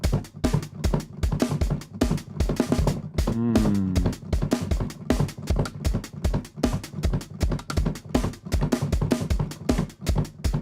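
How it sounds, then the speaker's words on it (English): A steady reggae drum groove with punchy kick and snare hits in a laid-back, even rhythm, with a short low, wobbling tone partway through. "This sort of beat today that comes from the reggae world."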